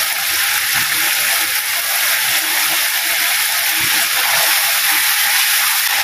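Previously fried chicken pieces go into a hot pan for Malaysian coriander chicken, setting off a loud, sustained sizzle and hiss with faint rattling and clattering underneath and no talking.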